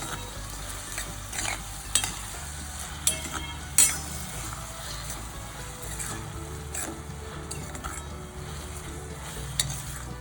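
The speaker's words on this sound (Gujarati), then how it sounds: "અને ફક્ત આપણે 1 જ મિનિટ હલાવવાનું છે" Mango chili pickle stirred in a pan, giving a steady low frying sizzle with soft scraping strokes and a few brief clinks, close and continuous with no voices.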